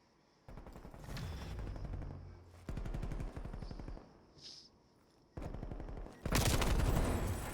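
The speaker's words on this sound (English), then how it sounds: "Beautiful shots there, just caught the end of that" Gunfire in a competitive shooter video game: repeated rapid automatic bursts, loud and close, in several separate volleys with brief pauses between them.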